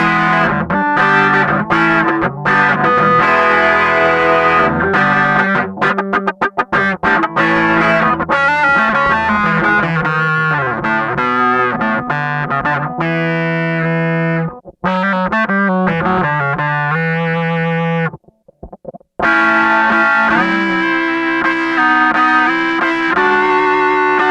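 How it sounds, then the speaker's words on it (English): A polyphonic guitar synth setup, a Roland GR-100 against a Spicetone 6Appeal hex fuzz, plays loud distorted sustained chords whose filter sweeps open and close with picking dynamics, broken by two brief silent gaps. "sweep the filter using the dynamics of our playing"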